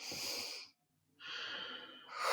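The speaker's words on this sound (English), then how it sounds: "And then take a deep breath." A person takes a deep breath, a close breathy inhale, a brief pause of silence, then a long airy exhale.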